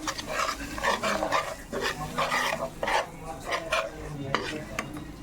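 Chili powder is mixed into an egg pickle with a spoon in a bowl, giving a steady run of scraping, stirring strokes close by with light clinks of utensil against the dish.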